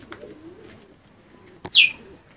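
Pigeons in their coops give soft, faint cooing murmurs under a quiet background, punctuated by a couple of brief clicks and one sharper, louder call near the end.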